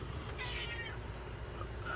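A cat meows once, a short mid-clip call near a laundry machine in a home kitchen, over steady low background hum.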